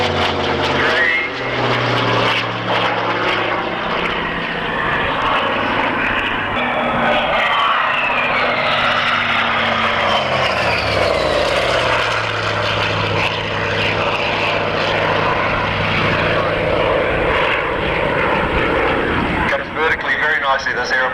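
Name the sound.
propeller aeroplane performing a four-point roll at an airshow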